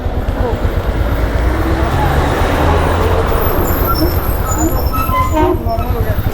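Dense road traffic congestion heard from a motorcycle on the route from Kolkata to Siliguri in North Bengal, a continuous loud rumble of engines and horns close by with toots near the end.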